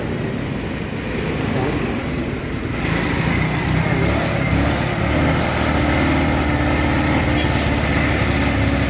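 Rusi Royal 125 motorcycle engine revving with an uneven, misfiring note, loud and close, holding steady with a slight rise partway through and no talk over it.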